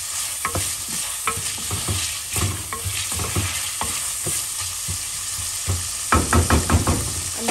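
Onions stirred and frying in a pan for Kerala-style chicken curry: a steady close sizzle under repeated scraping knocks of a spoon, with a quick burst of stirring strokes near the end.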